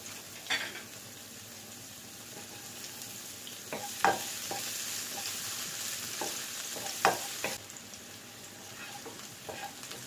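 Onions sauté in a pan for road-side style fried rice, sizzling steadily while a spatula scrapes and taps the pan in several sharp, irregular strokes.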